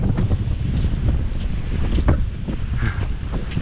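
Strong, gusty wind buffets the microphone on a frozen lake during ice fishing, a constant loud low roar with sharper blasts throughout and no talking.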